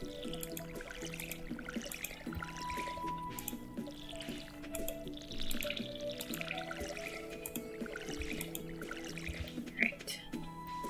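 Water sloshing and dripping from a watering can onto planted crops in the farming game Stardew Valley, soft liquid pours repeating over steady game music.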